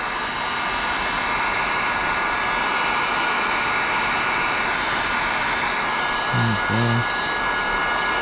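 Heat gun blowing hot air onto carbon window tint film on a GMC Terrain windshield, a steady loud broadband roar filling the clip, with a brief spoken word near the end.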